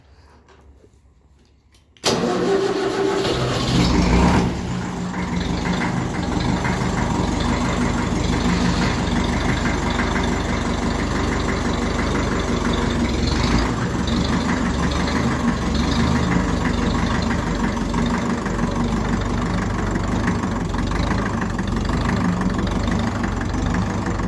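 A 1954 Ferguson 20 TEF diesel tractor cranks and fires after a quiet moment, then settles into a loud, steady, close-up idle that chugs on evenly for the rest of the stretch.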